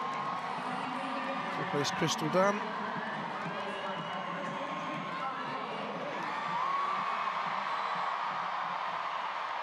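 A stadium crowd at a SheBelieves Cup football match between the USA and England cheers a USA substitution, a broad, distant roar that swells briefly with a few sharper shouts while a commentator talks over it.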